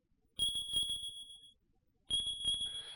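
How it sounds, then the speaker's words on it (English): A lifeform scanner in the video game Marine Philt gives two long, high electronic beeps, each about a second long with a rapid pulsing flutter, separated by a short silence. "all you get to hear is the beeping sound of the lifeform scanner."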